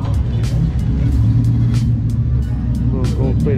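A Dodge Viper V10 engine runs steadily with a deep, loud, close rumble at an outdoor car meet. The drone continues throughout with faint clicks and crowd noise on top, and a person's voice is heard over it.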